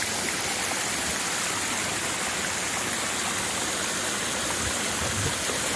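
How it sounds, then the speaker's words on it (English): Flowing water at Lamer Beach in Dubai at night, a constant, dense rushing wash like a stream or fountain, loud and unbroken throughout with no voices over it. "See how water is flowing."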